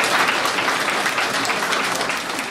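An audience applauds at a school's centenary celebration in Lipie, steady dense clapping from a large crowd in a hall, sustained and fairly loud before tapering slightly at the end.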